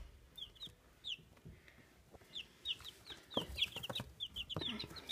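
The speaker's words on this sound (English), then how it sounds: "We got chicken." Chickens cluck in short, repeated calls at close range, scattered across the clip with small bursts of rustling and movement between them.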